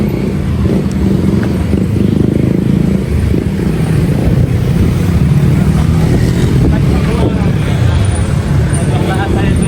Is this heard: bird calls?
no